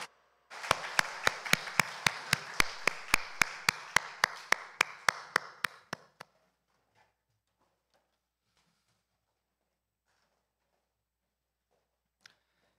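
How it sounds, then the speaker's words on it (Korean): A church congregation at a Sunday worship service claps in unison, about seventeen even, evenly spaced claps over six seconds, then silence with one faint tap later. "우리 하나님께 영광의 박수 주십니다"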